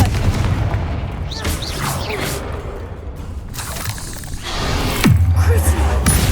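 Confringo blasting spell in Hogwarts Legacy amid a chaotic fight: repeated booms and crashing impacts with whooshing streaks, ending in a strong low-pitched blast, with busy game effects throughout.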